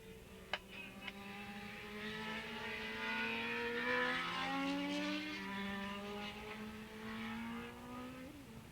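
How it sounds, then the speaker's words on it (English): Formula One racing motorcycles whine across Willow Springs Raceway, engines held in a long, rising and falling drone at a middle distance, with a couple of sharp clicks early and a pitch sweep near the end. "the Formula One bikes are already heading down that back straightaway"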